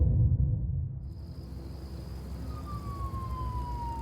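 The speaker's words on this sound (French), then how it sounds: "Le hurlement des sirènes tire l'adolescent de ses pensées." Police sirens wail in the distance at 17:45, with a faint, steady high tone joined by a slowly falling siren sweep over a low background rumble.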